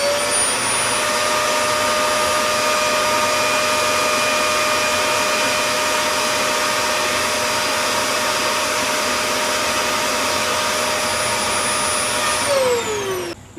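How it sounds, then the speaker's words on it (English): A vacuum cleaner drones loudly and steadily while a brush scrubs powder off a surface, the whine running unbroken before winding down at the very end. "Now we're going to try vacuuming while physically trying to dislodge it with a brush."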